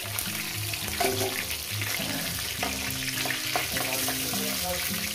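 Rohu fish heads frying in hot oil give a steady, dense sizzle with crackling bursts, close and continuous over a low background hum.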